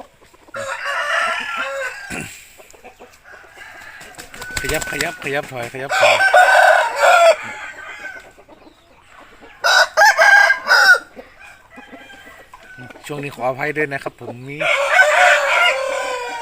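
Fighting roosters, a well-proportioned game-cock breed, crow in repeated loud bursts during an exercise session, with someone talking and coaching between the calls.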